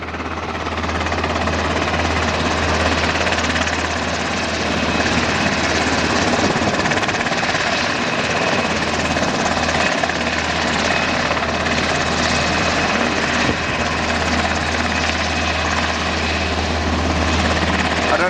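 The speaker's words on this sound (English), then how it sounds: "Once this chopper's gone, there's the second one circling, giving it cover." Military helicopter circling overhead, a loud continuous rotor thump and engine roar that stays close and steady throughout.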